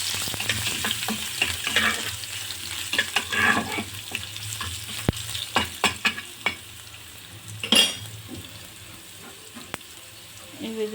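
Crushed garlic is added to hot oil while frying eggplant for Odisha-style dohi begun, crackling and sizzling in a bright steady hiss, with scattered stirring clinks and scrapes of a spoon against the pan.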